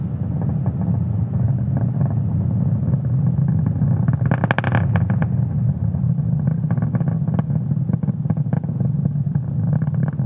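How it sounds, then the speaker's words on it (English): SpaceX Falcon 9 rocket engines on a Starlink launch, throttling down during ascent toward Max Q: a steady loud low rumbling roar with crackling texture and a brief sharper burst midway, no voices. "Now we are throttling down the engines in preparation for Max Q."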